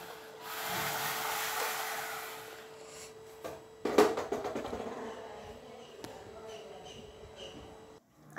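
The motor of a homemade Arduino RC car driven with a FlySky CT6B transmitter whirs steadily at first. Clattering knocks and handling noises follow and it winds down, with a voice talking faintly over it.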